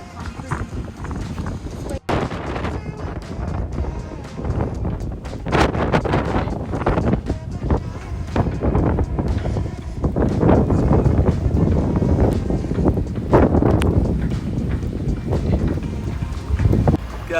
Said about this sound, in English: 40 knots of wind.